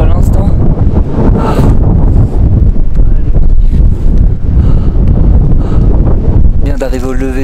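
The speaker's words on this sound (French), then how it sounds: "Il y a pas mal de vent." Strong wind buffets the microphone on a volcano summit in Guatemala, a loud continuous roar with gusts throughout, and a brief spoken voice at the end.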